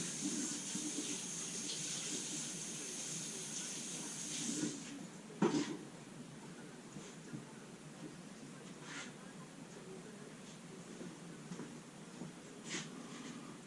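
Running tap water splashes and hisses over a freshly sharpened kitchen knife in a backyard setting, a soft continuous rinse with a few brief clinks and handling noises, faint and without speech.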